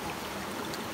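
Kalimpunan River and falls flow in a steady, faint wash of rushing water, continuous and even over a single second with no voices.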